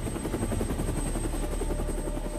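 A helicopter flying overhead, its rotor blades making a steady rapid thudding chop over a constant engine drone, loud and continuous throughout.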